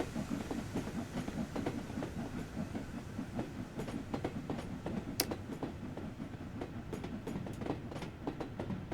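In Train Sim World 3, a train rolls past with steady rumble and rhythmic clickety-clack of wheels over rail joints, loud and continuous, with a sharp clank partway through.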